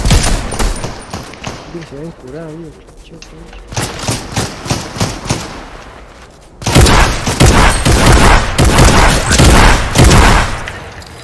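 Bursts of rapid automatic gunfire in Fortnite Chapter 4, sometimes distant and then loud and sustained near the end, with brief talk over the shooting.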